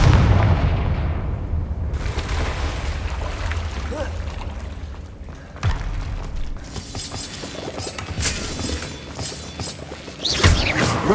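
Confringo blasting spells from Hogwarts Legacy go off as booming, shattering bursts over rumbling game ambience, with sharp impacts near the middle and a louder blast toward the end.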